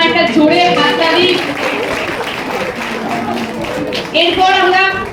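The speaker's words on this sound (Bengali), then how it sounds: "তো প্রত্যেককে বলবো আর একবার ওর জন্য একটা জোরে হাততালি।" Audience clapping at a Teachers' Day celebration at AIM Institution in 2024, a steady wash of applause lasting the whole stretch, with voices and crowd murmur mixed through it and a fresh swell of clapping near the end.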